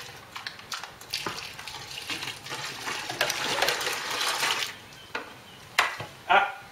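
Home-brewed lager is stirred in a plastic fermenter, giving a sloshing, swirling liquid sound with light knocks against the container and a few sharper taps toward the end.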